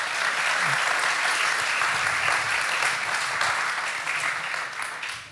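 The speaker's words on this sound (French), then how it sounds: "je crois qu'on peut vraiment applaudir ce plan" Steady, dense applause from an audience at an evening book event, loud and sustained throughout before easing slightly toward the end.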